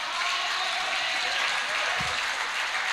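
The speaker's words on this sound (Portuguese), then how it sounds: "Você pode aplaudir ao Senhor?" A church congregation applauds together in a steady, dense wash of clapping that fills the room evenly, with one brief low thump partway through and no speech.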